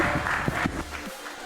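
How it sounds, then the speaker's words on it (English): Crowd applause at a Halo esports championship LAN event, a dense continuous wash of clapping and cheering with voices mixed in. "do a walkout during the applause"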